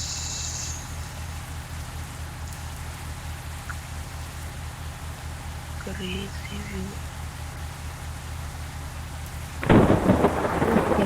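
Rain pouring steadily in a Bus Simulator video game, with a soft hiss throughout and a sudden loud thunder crack near the end; someone speaks briefly over it.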